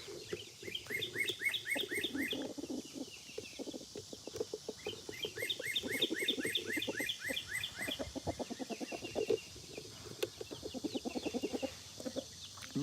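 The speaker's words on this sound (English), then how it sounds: "That bird sounds like he's saying, pretty, pretty, pretty, pretty, pretty." Small birds chirping and singing outdoors near a picnic table, with dense rapid repeated tweets and trills running continuously and fairly close, alongside clucking fowl.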